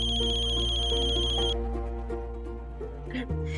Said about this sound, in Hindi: अयान का फोन।